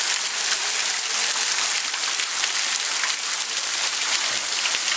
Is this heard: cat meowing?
no